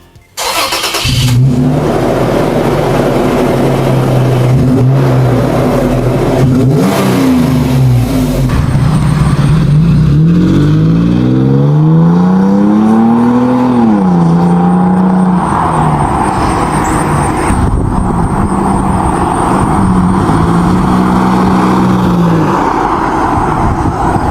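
A Toyota FJ Cruiser's aggressive bolt-on aftermarket exhaust starts up and revs repeatedly, rising and falling in pitch, loud and close with a deep rumbling idle between blips.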